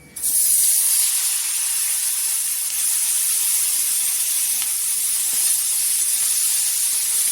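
Green chillies dropped into hot oil burst into a loud, close, continuous hissing sizzle that starts abruptly and holds steady without letting up.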